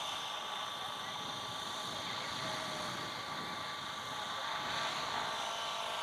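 A model helicopter hovers nearby at a model aircraft meet, a steady high-pitched rotor and engine whine holding constant pitch with slight swells in loudness.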